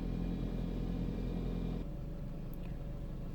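A car engine idles in its cold warm-up after sitting parked for weeks, a steady low rumble that shifts to a slightly lower, smoother hum partway through.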